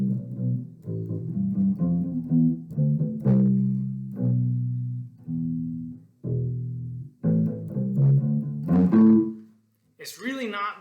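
A bass guitar plays the bridge of a song leading into the verse, as a run of distinct, close, moderately loud low notes with short gaps. A brief spoken voice comes in at the very end.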